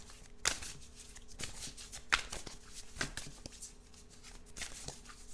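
Tarot cards are shuffled in a quiet room, with crisp riffling bursts at intervals and soft card handling in between, close and fairly faint.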